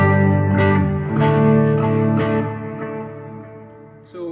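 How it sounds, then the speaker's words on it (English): Chiming electric guitar notes through a POD HD500X processor ring out with lush dotted-eighth delay repeats and subtle reverb, decaying smoothly after each strum. "By default, it's got a subtle reverb turned on, and it's got a dotted 8th delay."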